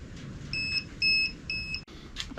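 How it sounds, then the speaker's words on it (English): A power inverter running off a sodium battery sounds its high-voltage alarm in three evenly spaced, shrill electronic beeps, loud and close, over a low background hum, followed by a short pause and a faint hiss. "leaving it on like this with the alarm running"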